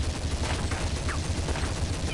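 Gunfire in the Counter-Strike video game, a dense, loud burst of rapid shots running continuously throughout with no speech over it.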